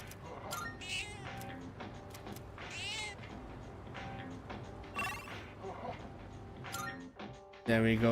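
A cat meows repeatedly in Persona 3 Reload, several drawn-out calls rising over steady game music and ambient tones, with a brief thump near the end.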